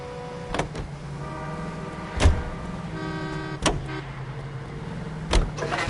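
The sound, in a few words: car driving in video game L.A. Noire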